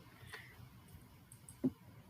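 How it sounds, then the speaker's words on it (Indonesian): A single sharp press of the delete key on a computer keyboard, one brief click near the end in an otherwise quiet room. "Baru bisa kita tekan tombol delete di keyboard kita"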